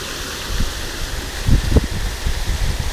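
A small creek running beside a pond near a corn field, a steady broadband wash of flowing water with a few low thumps and rustles, close by and with no talking.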